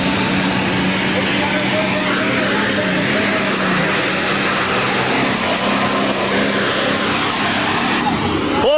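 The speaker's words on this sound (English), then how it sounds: "Tom Dickerson, only in New York, the 20-mule team tough running international super stock tractor" A 1991 International super stock pulling tractor roars at a dirt-track pull in Chapel Hill, Tennessee, its engine a dense, steady, loud drone held throughout, with an announcer's voice over it.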